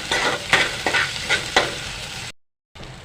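Spatula scrapes and stirs dry potato bhaji with crushed ginger and garlic in a frying pan, about four distinct strokes over a steady sizzle, then a brief silence before the sizzle resumes.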